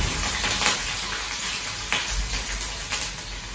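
Ginger, green chilli, curry leaves and cashews crackle and sizzle in hot tempering oil for lemon rice, a steady close frying hiss with small popping bursts and no voices.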